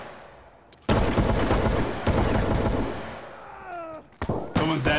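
Gunfire in Escape from Tarkov, with loud bursts of automatic fire starting and stopping in several bouts and brief gaps between them, while a voice shouts over the shooting.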